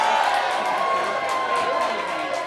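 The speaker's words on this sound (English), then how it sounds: "The only place in London where people are cheering each individual result" Election-night crowd in London cheering results, a steady loud wash of massed voices with occasional whoops, continuous throughout.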